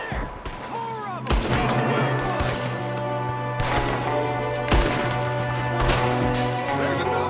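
Gunfire in the Red Dead Redemption 2 video game, with a shooter firing from a window: repeated sharp shots and volleys crack over a sustained game music bed, with brief voices mixed in.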